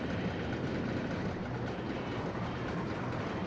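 A roller coaster train rolls along its track in the classic PC game Rollercoaster Tycoon, a steady rumbling clatter that stays even and continuous with no talking.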